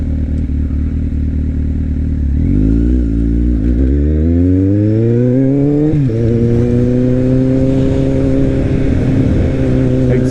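A Kawasaki Z1000 motorcycle with a 4-to-1-to-2 exhaust idles, then revs up in rising steps, holds, dips and climbs again to a steady high note, loud and close.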